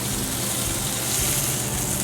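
A pork chop sears in a hot pan, giving a steady, close, even sizzle and crackle of frying fat with no break and no voices.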